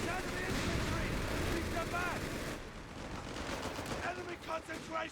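Sustained bursts of machine gun fire rattle through a Company of Heroes 3 1v1 match between German and US forces, dense and mid-distance, mixed with other battlefield explosions and rumble.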